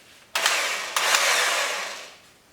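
An Eastwood Contour SCT sander fitted with 60 grit spins up with a sharp start, briefly catches, then re-engages and holds a loud, steady high-pitched whir before slowly tapering off.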